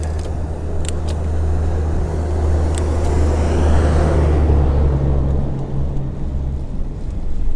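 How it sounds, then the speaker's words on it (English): Road traffic rolls past a bicycle rider, with a steady low engine rumble and one car swelling louder as it passes, all under constant wind buffeting on the microphone. "There may be a little more traffic right now than there was yesterday too."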